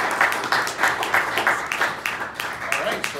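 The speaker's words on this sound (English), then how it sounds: "How about a round of applause for Greg?" An audience at a Toastmasters educational event at the Wyndham claps in steady, repeated bursts, with a voice audible alongside.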